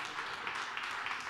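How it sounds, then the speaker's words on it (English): Dense, even applause from a concert audience at a university music program fills the whole brief moment, a close, continuous wash of clapping hands. "give him a round of applause to Exitane and"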